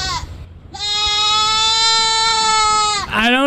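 A single goat gives a long, loud, wavering bleat lasting over two seconds, close by, ending as another shorter bleat begins.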